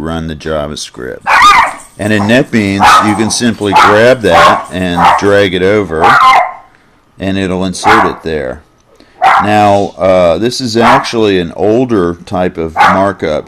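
A dog barks intermittently in the background of a room while someone talks steadily through a programming walkthrough.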